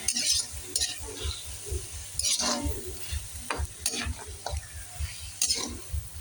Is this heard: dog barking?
no